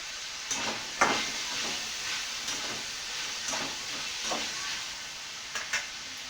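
Cauliflower (gobi) sautés in a pan: a continuous close sizzle with steamy hiss, broken by repeated spatula scrapes and stirring knocks, with no voices.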